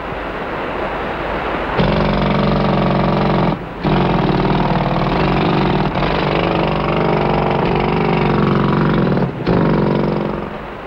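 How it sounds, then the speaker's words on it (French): Loud machinery in a coal mine roars in a dense, continuous mechanical drone, with two brief dips where it cuts out before resuming at full volume. "Le vacarme est énorme comme les machines."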